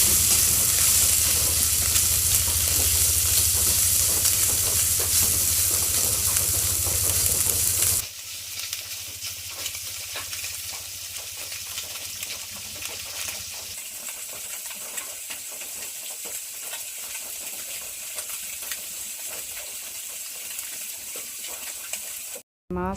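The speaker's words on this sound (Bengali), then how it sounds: "মাছটি আগে ভাইজা নিব।" Small tengra fish fry in a wok with a close, continuous sizzle. It is loud for the first eight seconds, then drops to a quieter, steady hiss with occasional crackles.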